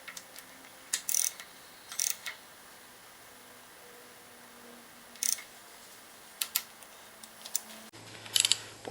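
A torque wrench clicks in sparse, sharp bursts while engine bolts are tightened to 18 foot-pounds during a Holden VZ SS Commodore LS motor reassembly, with short ratcheting clicks separated by quiet gaps, close up.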